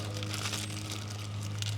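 A plastic bag holding small truck door parts crinkles steadily at close range, a continuous rustling texture with a low steady hum underneath throughout.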